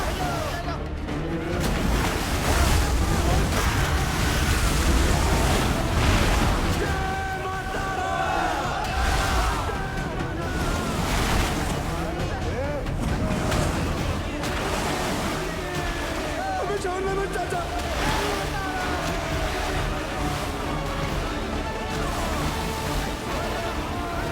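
Water rushing past a boat during a river crossing, a loud, continuous surging roar with scattered splashes, while voices shout and talk over it throughout.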